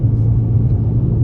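Steady, close engine rumble from a 2022 Toyota C-HR XLE pushed hard into a corner, a continuous low drone holding even throughout with no voices.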